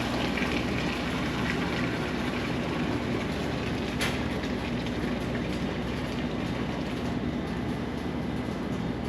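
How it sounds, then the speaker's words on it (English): Hot deep-fryer water pours down a kitchen drain through a china cap and chinois, a loud, steady rushing gush that runs unbroken throughout, with one sharp clink partway. "I'm just gonna run this water down the drain with some hot water through a china cap and a chinois."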